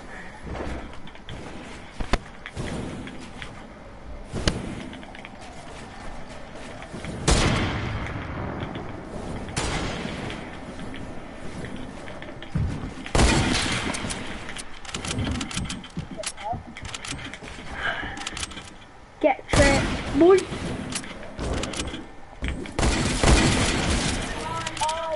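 Sniper rifle shots in a video game, several sharp, loud bursts at irregular intervals with bursts of other game noise between them, under a player's talk.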